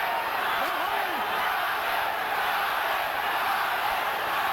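Steady, loud roar of a boxing arena crowd at the 1990 Julio Cesar Chavez vs Meldrick Taylor fight, a dense unbroken wall of noise with no gaps.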